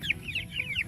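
Broiler chickens about 45 days old cluck in short, repeated bursts on a Philippine farm, fairly close, over a low steady background rumble.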